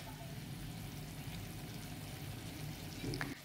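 Spice paste and dal for Bihari chana dal sizzle steadily in a pan as they are sautéed, a continuous frying hiss with faint stirring scrapes near the end.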